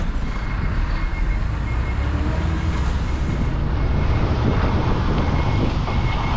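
Truck driving past and turning left on a street in Japan, a steady rumbling engine and road noise that swells slightly toward the end, with a faint repeating tonal beep of a turn warning above it.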